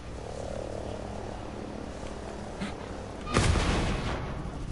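A single loud, close explosion bursts out partway through amid steady background game noise in the Ghost Recon video game, followed by a rumbling tail.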